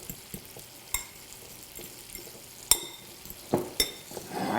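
Rice gets tossed in a pan with butter and lemon juice, a quiet sizzle broken by a handful of sharp utensil clinks and scrapes against the pan.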